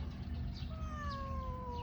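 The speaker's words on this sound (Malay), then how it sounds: "Ini ialah kucing hutan saya panggil dia." A pet wild jungle cat lets out a single drawn-out meow that slides gently downward in pitch, soft and close, over a low steady background hum.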